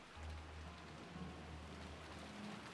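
Steady, soft rain falls continuously in Umineko When They Cry, a faint even patter with a low rumble beneath.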